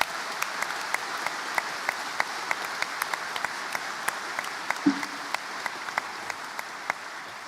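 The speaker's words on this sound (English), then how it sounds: "We might give her a round of applause for herself, actually" Scattered applause rises from the audience at a college graduation ceremony, a sparse run of distinct, fairly soft hand claps heard at a distance in a large hall, with one brief louder knock partway through.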